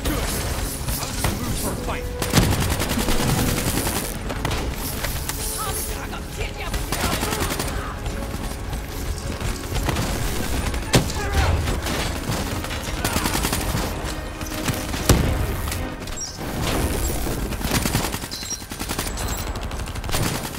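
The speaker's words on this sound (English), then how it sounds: "I'm shooting at teammates and shit." Video game gunfire from Black Ops 3, dense bursts of automatic shooting and sharp shots running almost continuously, loud and close, with a voice talking over it.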